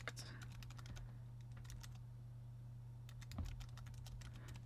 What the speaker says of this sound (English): So if I were to type in the ACT Hotel